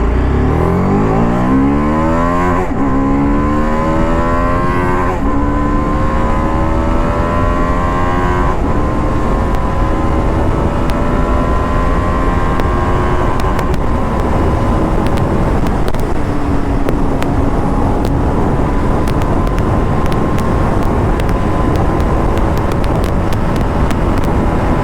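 A 2023 TVS Apache RR 310 motorcycle accelerates hard on an open road, its engine note climbing loud and close through repeated rising sweeps as it pulls through the gears, with steady wind rush throughout.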